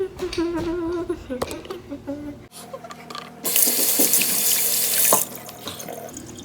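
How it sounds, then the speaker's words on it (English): Tap water runs into a sink during handwashing, a steady splashing rush that swells louder midway as the flow hits hands, close up and continuous, with no talking. "let's go wash our hands"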